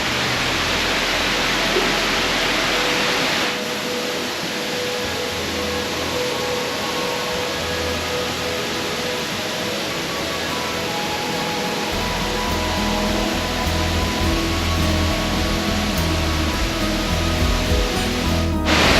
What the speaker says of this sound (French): la deuxième cascade